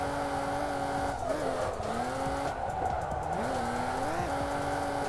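Car drifting in the Assetto Corsa racing game, a continuous engine drone with tires squealing in wavering, rising and falling bursts as the car slides through the corners.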